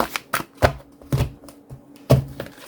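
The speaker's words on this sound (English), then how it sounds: "And one more shuffle." Tarot cards being shuffled by hand, heard as a run of crisp, irregular taps and riffling snaps, close and moderately loud, with no talking.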